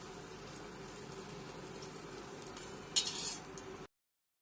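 Semolina and other upma premix ingredients, chillies among them, roast in ghee in a pan, giving a quiet, steady sizzling hiss with a brief, slightly louder scrape of stirring near the end.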